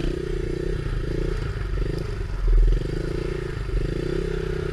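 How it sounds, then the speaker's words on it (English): A pit bike engine holds a steady buzzing drone while the rider pulls a wheelie, close and loud, with a brief surge of extra roar midway and faint scraping clatter. "About to do a nice wheelie here."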